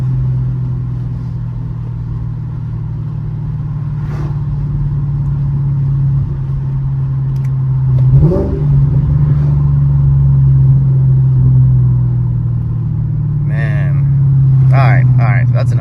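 A Mercedes E55 AMG with a loud exhaust and billet pulley upgrade rumbles low and steady while driving, swelling as it accelerates midway, with people talking over it near the end.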